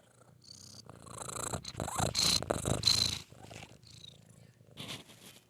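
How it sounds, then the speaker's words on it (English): A female cat purrs close up in a steady rumbling rhythm, with a few soft squeaky chirps mixed in, no talking. "Let me see if I can pick up her purr."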